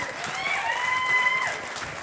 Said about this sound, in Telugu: చేతులు ఎత్తి చప్పట్లు నిలబడి చప్పట్లు కొట్టాలి అందరూ.